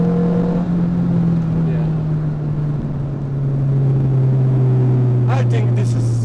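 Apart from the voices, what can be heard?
Renault Clio car accelerating to the red line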